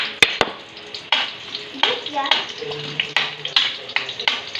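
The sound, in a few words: onion and garlic sautéing in a pan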